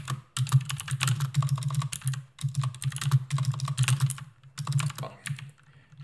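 Steady typing on a computer keyboard, a dense run of close clicking keystrokes in bursts with short pauses, heard alone without talk.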